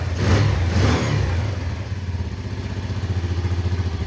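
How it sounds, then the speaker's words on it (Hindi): Bajaj Discover motorcycle engine, older model, revving briefly with the throttle, then settling into a steady, rhythmic idle putter, close and loud. "थोड़ा सा एक्सलेटर लिया है और इसके बाद हम एक्सलेटर छोड़ते हैं"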